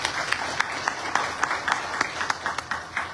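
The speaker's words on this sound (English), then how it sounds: "Let's give them a big round of applause." An audience at a Hindu temple devotional event in Houston, Texas gives a round of applause: scattered claps from a modest crowd, moderately loud and steady.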